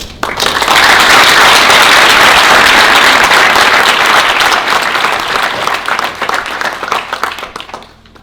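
Sustained audience applause filling a hall at The Wharton School as Indian Finance Minister Nirmala Sitharaman is welcomed; dense, loud clapping swells quickly, holds steady, then tapers off near the end.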